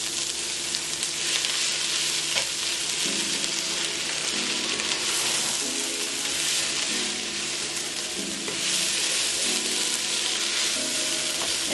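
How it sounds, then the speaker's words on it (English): Cabbage sizzles and fries steadily in a hot pan seasoned with pink Himalayan salt, with a continuous crackle and periodic scraping strokes from stirring, close and fairly loud with no voices. "Give it a nice stir."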